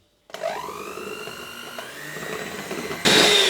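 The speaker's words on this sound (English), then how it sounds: "the mascarpone is quite lumpy, so decided to go in with the mixer" An electric mixer whirs through lumpy mascarpone in a bowl, a steady motor whine that starts abruptly, shifts pitch slightly as it works, then jumps to a louder, harsher speed near the end.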